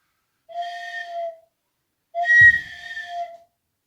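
A sybyzgy, the Kazakh end-blown flute, played in a cartoon: two clear, sustained breathy notes, the second phrase a little louder and longer, standing alone with no talk.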